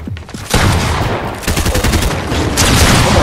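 Gunfire in a shooter video game during a 1v1 tournament match: loud, close, rapid shots that blur into continuous bursts for several seconds.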